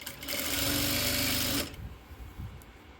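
Close and loud, a sewing machine whirs in a steady fast stitch along a bias binding trim on a garment edge, then halts sharply, leaving quiet handling sounds and a faint click.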